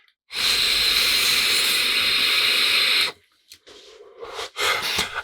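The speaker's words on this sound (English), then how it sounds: "And you're back to direct to lung vaping." A GeekVape Aegis Boost pod mod set to 20 watts with its airflow wide open, drawn direct to lung in one long loud airy hiss of about three seconds, followed by shorter breathy exhales and puffs.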